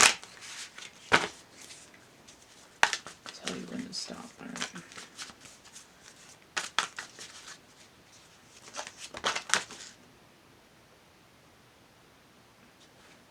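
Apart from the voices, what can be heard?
shuffling a deck of cards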